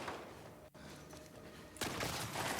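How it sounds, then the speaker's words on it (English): Shotgun fire in The Last of Us Part 2 game running on an RTX 3090 Ti, a sharp blast near the start followed by a loud sustained burst of gunfire and combat noise, close and dense. "I'm gonna shoot him with a shotgun."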